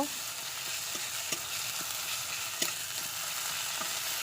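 Ginger paste being stirred with onions in a hot pan, with steady frying sizzle underneath and periodic scraping knocks of a spatula against the pan, close and even-paced, no talking.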